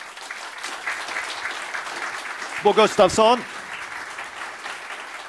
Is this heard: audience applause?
yes